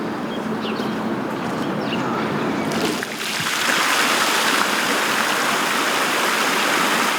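Steady rushing and splashing water fills the clip, growing louder and fuller partway through, as the first fountain of the season is switched on in Odesa, jetting close by with faint background birds.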